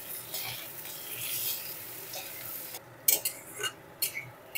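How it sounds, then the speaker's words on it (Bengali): Potatoes frying with a little salt in a pan, a soft steady sizzle with scraping stirs that grow sharper and more frequent toward the end, close and without talk. "আলুগুলো এর সাথে ভালো করে ভেজে নেব।"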